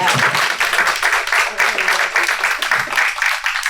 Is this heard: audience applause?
yes